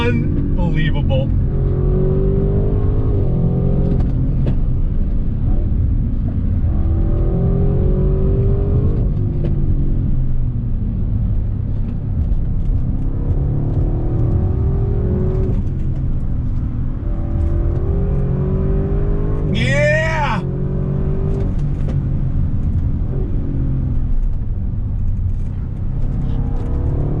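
2021 Audi RS7 sedan accelerating hard out of corners, a loud continuous engine roar rising and falling in repeated surges from inside the cabin, with people talking and exclaiming over it.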